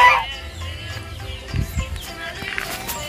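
Geese honk at a pond, with a few brief nasal calls rising over a busy outdoor background and some chicken-like clucking mixed in.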